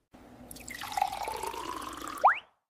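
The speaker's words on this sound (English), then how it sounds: "I pour some juice." Liquid, likely juice, pouring in a steady stream into a container, the pitch rising gently as it fills, then a brief bright gurgle as the pour ends; close and alone.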